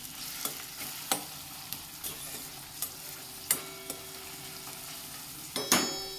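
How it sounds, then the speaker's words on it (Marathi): Onion and green chillies stir-fried in oil in a pan, with a steady low sizzle broken by sharp, regular spatula scrapes and clanks, fairly close and with no talking. "नंतर आपण कांदा टाकून घेणार आहोत असं मस्त परतवून घ्यायचं आहे सगळं मिक्स करून घ्यायचं आहे"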